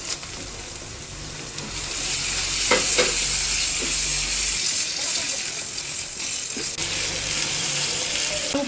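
Chopped tomatoes hit a hot pan of spices for spinach paneer and fry with a loud, steady sizzle up close, a few clinks of a utensil rising above the hiss.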